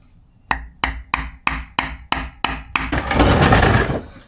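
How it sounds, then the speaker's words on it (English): A hammer lightly taps a pilot bearing into place through a piece of wood: about nine sharp, evenly spaced knocks ring out close by, followed by a rough scraping rustle. "Then for the install, lightly tapping just to start it."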